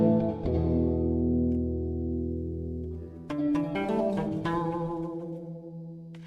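Clean electric guitar with reverb: a sustained chord rings out, then a fresh strum of several notes follows and decays with a soft lingering tail.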